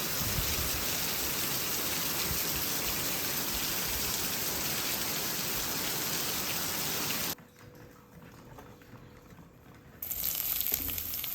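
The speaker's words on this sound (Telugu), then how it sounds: "అక్కడ వర్షం నీళ్ళు పడుతున్నాయి కదండి పైన నుంచి" Heavy rain pours down from above onto a garden, a dense steady hiss that drops away for a few seconds before returning at full strength, with no voices.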